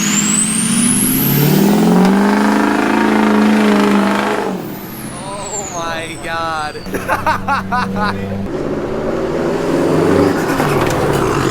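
A loud Subaru WRX engine revs hard with a rapid turbo blow-off flutter in the middle, followed by a renewed roar. People talk and exclaim over it.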